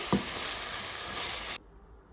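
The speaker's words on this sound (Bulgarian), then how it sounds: "Едно финално разбъркване и изключвам котлона." Leeks frying in a pan get a final stir, a steady close sizzle with scraping spoon strokes that cuts off abruptly near the end, leaving quiet room tone.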